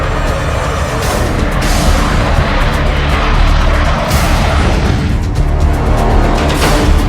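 A Rafale fighter jet roars steadily and loudly across the whole stretch, a dense broadband engine rush with brief dips in intensity, and no voices alongside.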